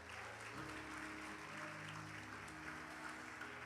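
A church congregation claps continuously, a dense wash of applause filling the room with a low musical drone underneath.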